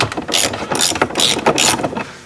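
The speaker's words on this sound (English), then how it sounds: "We take them out with a 10mm socket." A ratchet wrench with a 10mm socket turning out bolts on a Toyota 4Runner, a quick sequence of close, crisp clicking bursts with no talk.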